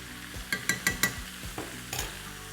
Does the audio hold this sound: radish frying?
yes